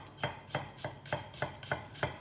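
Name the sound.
chopping onions with a sharp knife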